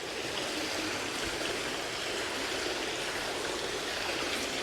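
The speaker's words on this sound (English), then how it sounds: "I like the nice water feature we've got here." A water feature in Sheffield Botanical Gardens runs as a steady, close, full rush of flowing water, continuous and even throughout, with no voices over it.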